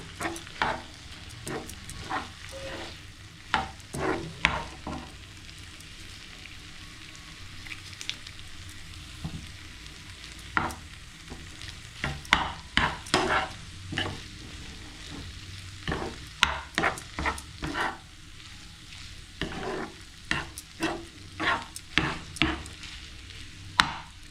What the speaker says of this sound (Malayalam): ഇനി നമുക്ക് ഇതിലോട്ട് ചോറിടാം നന്നായി മിക്സ് ചെയ്യാം